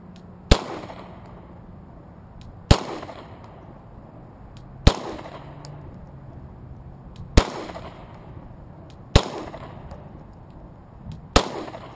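Gunshots at a shooting range, six sharp cracks fired singly at roughly two-second intervals, each ringing briefly over a low background hum.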